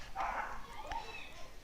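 A dog barks on a campus, a short burst of yips mixed in with someone talking nearby.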